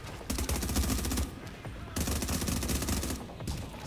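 Sustained bursts of rapid automatic gunfire from a firefight in Tom Clancy's The Division, loud and dense, broken by two short lulls before the shooting resumes.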